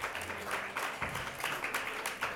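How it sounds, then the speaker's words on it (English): Continuous audience applause at a film press conference for Bridget Jones's Baby, a steady dense patter of many hands clapping without pause for the whole stretch. "We're just continuously clapping here."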